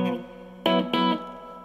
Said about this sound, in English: Got the reverb turned all the way up so you can hear when that one is on.